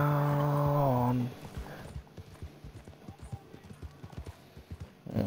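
Hooves clop at a steady walking rhythm in Red Dead Online, moderately close, following a short sustained tone at the start.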